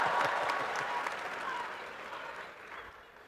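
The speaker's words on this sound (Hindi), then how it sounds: "जैसे जैसे समझ आता जाए ताली बजाते जाइए।" A large audience claps at a grand ceremony marking 45 years of the Art of Living, a dense wash of applause that starts full and fades gradually.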